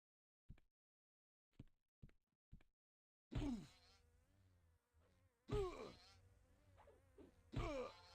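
A bee in the EverQuest video game buzzes in loud bursts of droning, insect-like sound, preceded by several short sharp taps and clicks, with no speech.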